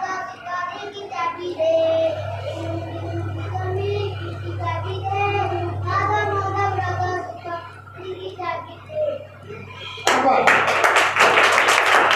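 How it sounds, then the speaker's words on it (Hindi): Schoolchildren in a village classroom break into loud, fast clapping near the end, a dense burst of hand claps following a stretch of an adult talking with the class. "सारे बच्चों के लिए ताली बजाओ।"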